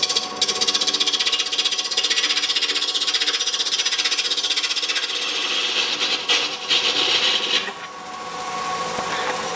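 A resin blank spinning on a wood lathe, mounted on a mandrel, as the tool cuts long continuous shavings: a steady, loud rasping scrape with a bright hiss that keeps going, briefly eases and then returns.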